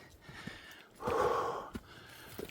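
Heavy, labored breathing from a person out walking a dog by a bay, close and audible with sharp breaths and one long, loud exhale in the middle.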